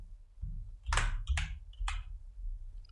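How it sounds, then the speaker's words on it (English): A computer keyboard is typed on: a few close, soft key clicks in a short cluster, with quiet gaps between presses. "So I'm going to type thanks for watching"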